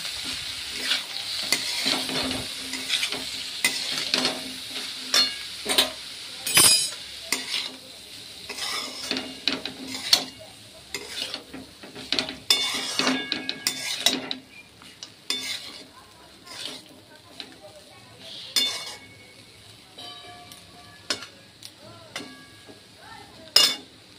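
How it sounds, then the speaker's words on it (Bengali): Flattened rice (chira) is stirred with vegetables in a pan for chirer pulao, giving repeated close scraping strokes and clinks of a spatula against metal over a soft frying sizzle, with no speech. "এবার একটু নাড়াচাড়া করব।"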